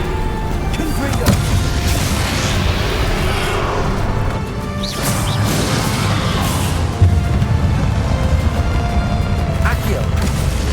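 A Confringo fire spell explodes in Hogwarts Legacy amid a dense, loud wash of combat blasts and rumbling impacts, with a player shouting spell names over the din.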